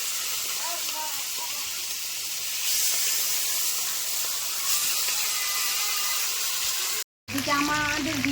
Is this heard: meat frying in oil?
yes